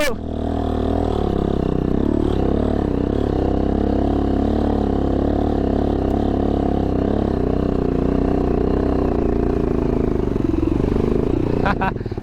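A motorbike engine revs hard and continuously while the bike is stuck on a rough mountain road near Badimalika, Bajura, the mid-pitched drone rising and falling close by throughout.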